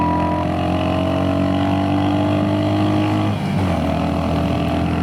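Royal Enfield Hunter 350 motorcycle engine labouring steadily uphill on the ride from Manali to Rohtang, a continuous close droning hum with a slight dip in tone near the end.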